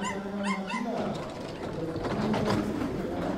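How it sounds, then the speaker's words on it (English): Dog barking beside a luge track during a doubles competition, a few sharp barks near the start over steady crowd and track noise. "I remember that dog from last year, barking at the same spot on the track"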